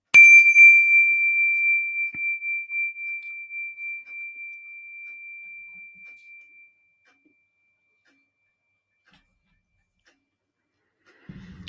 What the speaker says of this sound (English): When you detect the vibration of my bell, allow your eyelids to float open and gaze softly ahead.